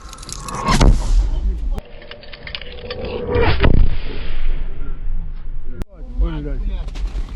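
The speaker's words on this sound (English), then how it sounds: "Это опять наш стреляет." Loud outgoing artillery fire near a frontline trench in the Bakhmut sector of Ukraine, with heavy booms and sharp blasts over a rumbling background while soldiers talk nearby.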